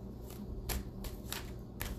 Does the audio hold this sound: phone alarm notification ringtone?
no